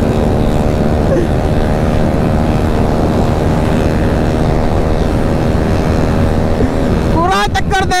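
Royal Enfield Bullet motorcycle racing on a road at night, its engine a loud, continuous thrumming drone throughout, close and steady, with a sharper rising burst near the end.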